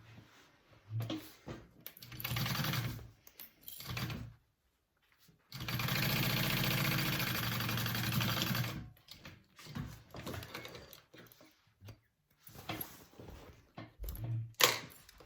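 A sewing machine bastes panels of a fabric bucket bag in short on-off bursts, with one longer run of about three seconds in the middle and clicks and fabric handling between.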